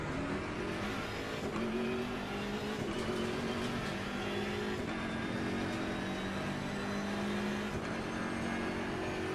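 Race car engine in the sim racing game Assetto Corsa Competizione, a continuous loud drone that rises and falls with throttle and gear shifts, with occasional tyre squeal, heard alone with no talk.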